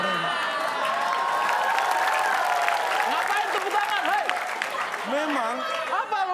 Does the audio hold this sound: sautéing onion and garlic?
no